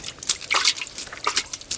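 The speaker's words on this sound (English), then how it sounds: "I'm also going to sprinkle water around the outside edges" Water is sprinkled around the outer edges of a put-out campfire pit, giving a quick series of close, crisp splashes and patters on the hot ground, uneven in rhythm and heard on their own.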